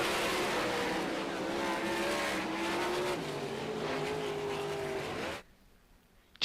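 World of Outlaws sprint cars roar past at Devil's Bowl Speedway, a loud sustained engine howl with shifting pitch as cars run side by side, cutting off abruptly to near silence.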